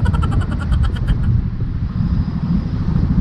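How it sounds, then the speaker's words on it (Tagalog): Heavy road traffic in Sauyo rumbles close by, a dense low engine drone with wind buffeting the microphone, continuous and without talk. "napaka-traffic dito sa may Sauyo"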